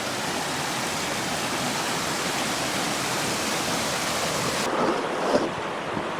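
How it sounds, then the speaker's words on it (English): A waterfall in Coyote Gulch canyon pours steadily, producing a broad, constant rushing hiss of falling water with some wind buffeting the microphone, nearby and even in level, with no voices. "Okay, now we're at waterfall number 3."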